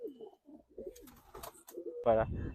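Kalshira pigeons give a short, loud burst of cooing near the end, following a stretch of soft chatter and faint calls.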